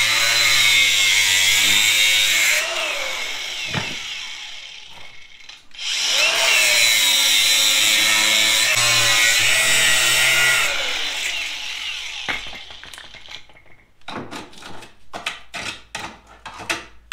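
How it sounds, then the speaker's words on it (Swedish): A power saw cuts through wood in long, loud, close passes with a brief pause between them, then gives way to a series of short sharp knocks, with no talk heard. "Jag tror vi tar på oss hörselskydd och börjar såga rent lite."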